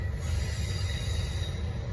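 Norfolk Southern freight train 241 rolls past on the Charlotte District, its wheels squealing and rumbling in a loud, steady stream from close by, no voices.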